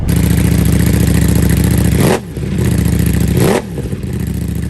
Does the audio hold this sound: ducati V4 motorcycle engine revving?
yes